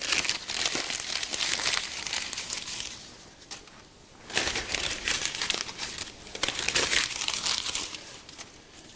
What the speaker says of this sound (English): Just get it and twist it up like that.